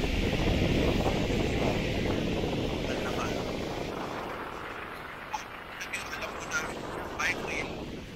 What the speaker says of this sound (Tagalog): Hindi ko napansin may ventilador.